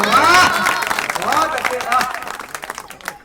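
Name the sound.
audience applause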